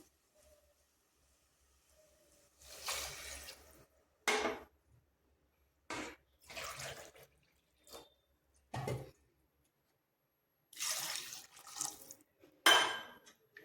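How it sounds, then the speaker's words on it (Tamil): Water pours in several separate bursts with quiet pauses between them, splashing close by into a pot of rice for tomato rice. "இப்போ தண்ணி வந்து ரெண்டு மடங்கு சேர்த்துக்குவோம்"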